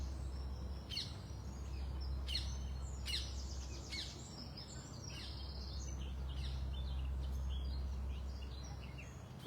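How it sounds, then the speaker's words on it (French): Several birds sing and chirp outdoors in scattered high calls over a steady low background hum, fairly distant and soft, with no talking. "Tous ces oiseaux qui chantent, c'est beau."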